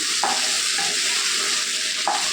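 Okra curry sizzles steadily in a pan, a constant hiss with a few soft scrapes of a spoon stirring the pieces, close and uninterrupted by talk.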